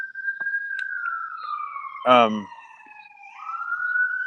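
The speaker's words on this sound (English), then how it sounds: "It's a loud siren over there." A loud siren wails steadily in the distance, its pitch sliding down and then back up, with a brief burst of another noise cutting in midway.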